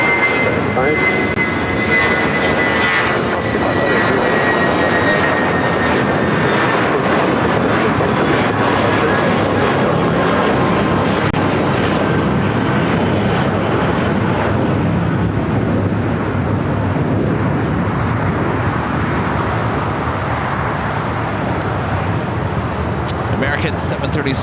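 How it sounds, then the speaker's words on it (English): An American Airlines Boeing 737-800 from Chicago O'Hare lands at LAX, its jet engines a loud, sustained roar with a high whine that slowly drops in pitch as it passes, while a voice talks over it. "737-800 coming in from Chicago O'Hare, flight 1432, now crossing over."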